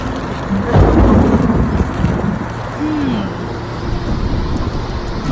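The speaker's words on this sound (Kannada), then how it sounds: "ಮಳೆ ಶುರುವಾಯಿತು" A monsoon thunderstorm in the Western Ghats of Maharashtra, with a loud, sustained rumble of thunder over steady rain noise and a brief whistling tone partway through.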